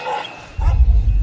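A drug-sniffing dog barks at an airport in Colombia during a luggage check, one loud, close, low bark after a brief quieter moment.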